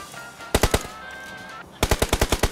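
Gunfire in a mobile shooting video game rips out in two quick automatic bursts, the first of about three loud shots, the second a longer rapid string of around seven, with no talking over it.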